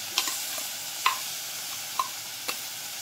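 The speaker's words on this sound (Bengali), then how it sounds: "এবার আমি দিয়ে দিচ্ছি ধনেপাতার পেস্ট" Coriander leaf paste goes into a hot pan with a steady sizzle, punctuated by a few light stirring clicks and scrapes spaced through the clip, close and moderately loud.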